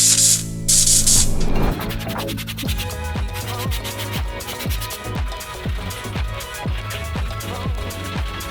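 Interior cleaner sprayed inside an abandoned 1978 Corvette Pace Car: a loud hiss of several spray bursts at the start, then a run of steady rhythmic scrubbing strokes close by, with no voices.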